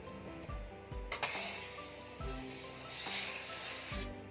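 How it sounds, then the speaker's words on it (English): A scraper rubs masala cookie dough from the sides of a mixing bowl, a few faint, irregular scraping strokes close by with no talk. "If the mixture is going out, take a scraper."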